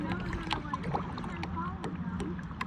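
A kayak is paddled through water, giving repeated soft splashes and strokes under people chatting nearby, with some wind noise.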